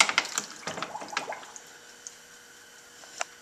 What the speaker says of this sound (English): we'll go ahead and submerge it